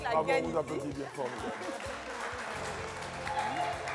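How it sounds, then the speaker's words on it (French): A studio audience on a French game show breaks into applause. The clapping is mixed with chatter and a host's voice, rising and falling throughout. "vous applaudissez bien fort."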